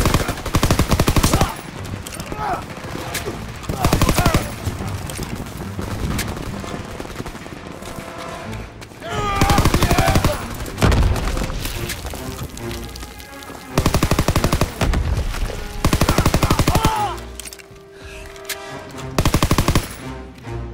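Heavy Call of Duty WW2 battle gunfire: machine-gun bursts and rifle shots come in loud, repeated volleys separated by brief quieter stretches, dense and close throughout.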